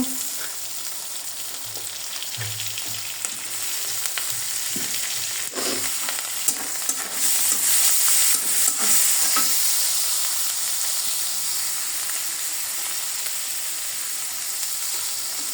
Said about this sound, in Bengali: এখানে তো ডিমটা দিয়ে দিলাম, ভালো করে ভেজে পরে নুডলসটা দিব আমি